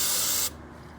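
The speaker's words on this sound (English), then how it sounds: "You spray some spray in there." Starter fluid hisses from an aerosol can into a Kawasaki KFX700 ATV engine in one loud, close, steady spray lasting about half a second before cutting off to quiet room noise.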